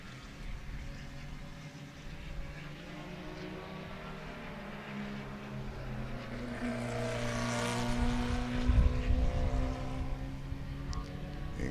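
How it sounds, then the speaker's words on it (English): A small racing car with a stock Volkswagen engine buzzing past at a distance at Sebring, revs rising and falling as the throttle is feathered, growing louder toward the end. "In case you're wondering, that is the sound of a stock Volkswagen."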